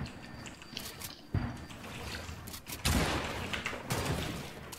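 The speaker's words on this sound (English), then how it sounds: "That was a warning shot" Gunshots in a video game ring out as a few loud, sharp bursts of fire spaced a second or so apart, with a brief rattle of rapid shots, over quieter background game noise.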